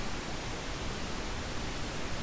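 Television white-noise static from a channel in the video game Everhood, a steady, even hiss filling the whole range and holding constant without any break, alone with no voices.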